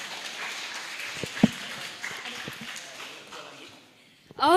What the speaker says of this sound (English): give a round of applause to the delegate of Thailand